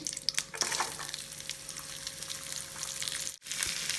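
Green gram added to hot oil with mustard seeds, giving a steady crackling sizzle with scattered pops and a faint hum, which breaks off briefly near the end.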